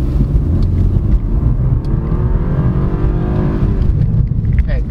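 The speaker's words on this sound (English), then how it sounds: "like all BMWs, in manual mode, it will automatically upshift even though in manual mode." A 2024 BMW 318i Business engine drones steadily from inside the car, pitch rising and then easing as the transmission upshifts on its own in manual mode, loud and continuous.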